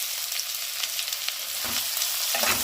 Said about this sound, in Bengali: এবারে আমি এই যে কুচনো পেঁয়াজটা পুরোটাই এর মধ্যে ঢেলে দেব